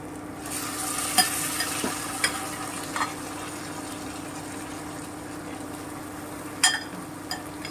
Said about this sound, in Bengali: এবারে আমি সেদ্ধ ডালটা এখানে দিয়ে দিচ্ছি